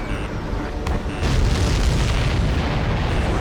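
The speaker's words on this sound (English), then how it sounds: "Did you see that explosion? Looks like that's one of them down." A supply ship blows up in the combat flight game Ace Combat 7, a sudden deep, rumbling boom that swells after a second and keeps roaring loudly through the rest of the moment, with no voices.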